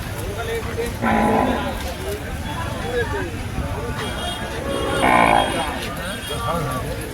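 Cattle lowing at the Sunday cow market at Chilpur Gutta, with two deep moos rising over steady crowd chatter and people talking nearby.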